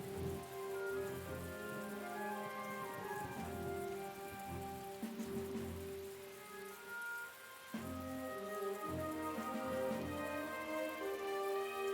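Steady rain falls in the strategy video game The Great War: Western Front, a continuous patter blended with sustained musical tones and low rumbles, soft and unbroken throughout.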